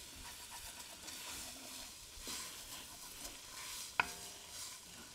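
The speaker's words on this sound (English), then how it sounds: "you wanna keep stirring at this point because you don't want your onions to stick to your pot" Onions being stirred and scraped in a soup pot during a chicken dish, a faint steady sizzle and soft scraping throughout, with one sharp clack of the utensil against the pot near the end.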